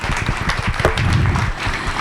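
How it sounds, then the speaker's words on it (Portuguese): An event audience breaking into applause, a brief burst of dense clapping roughly two seconds long, close and fairly loud, with crowd noise mixed in. "Renata, eu preciso de uma salva de palmas para você também"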